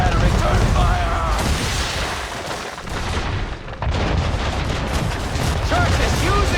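Ship cannon fire in Assassin's Creed III during a naval ambush: dense, continuous booming barrages and gunfire roar through the whole stretch, with a brief dip near the middle, and shouted voices sit under the din.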